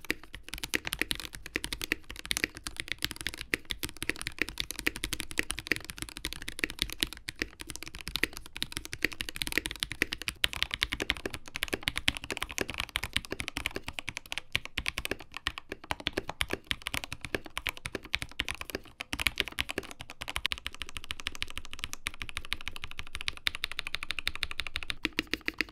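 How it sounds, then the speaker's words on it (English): Steady, fast typing on a NovelKeys NK87 tenkeyless mechanical keyboard in an aluminum case, fitted with Everglide Aqua King switches, a dense run of close, crisp keystrokes with no voices. "Switches here are the Everglide Aqua Kings, which are higher pitched than the JWKs"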